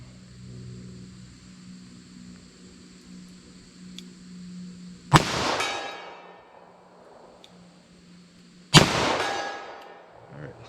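.38 Special +P 158-grain lead semi-wadcutter hollow-point revolver rounds from a 4-inch barrel, two sharp loud shots about three and a half seconds apart, each with a ringing decay, over a quiet outdoor background.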